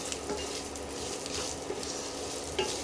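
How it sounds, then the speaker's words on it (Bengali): Whole dried red chillies fry alongside poppy seeds and other spices in a pan, making a continuous, nearby sizzle with light stirring and a few soft pops. "তারপরে গোটা শুকনো লঙ্কাগুলো দিয়ে একটু ভাজতে হবে।"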